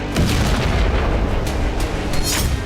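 Booming blasts from Russian missile strikes on a Ukrainian hydroelectric power plant in Kremenchuk, a continuous loud rumble with several heavy impacts layered over one another and no voices.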